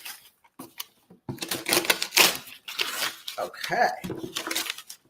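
Someone opens a taped package box with a series of crinkly tearing, ripping and rustling bursts at close range, broken by short pauses, while a person speaks briefly.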